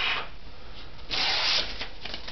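Vinyl is rubbed down firmly by hand during a dry application in a cold room, heard as two quiet, close scraping strokes, the second longer and stronger.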